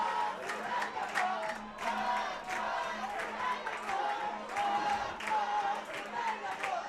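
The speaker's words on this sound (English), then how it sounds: "And the crowd have really beginning to find their voice now." Football crowd at the Zambia v Sudan African Nations Cup final in Perth roars and chants steadily, surging in repeated waves with whoops and scattered clapping mixed into the dense noise.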